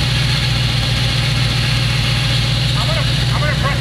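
A fake Lamborghini replica car's engine idles roughly and runs badly, a loud steady low rumble with pulsing throb throughout, with a person's voice faintly heard over it near the end.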